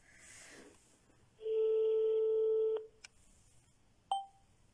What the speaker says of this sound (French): Je vais essayer d'appeler cette personne qui est en France.